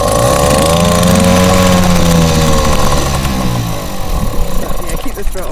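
A small outboard motor on a 707 sailing yacht runs steadily just after starting with the throttle opened a little, a loud, close buzzing drone that settles and wavers slightly toward the end.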